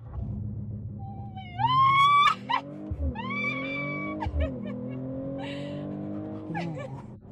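Mercedes-AMG CLE53 doing a launch control start in race mode: engine revs climb in rising tones, then surge with gear shifts, loud and close from inside the cabin, with brief tire noise.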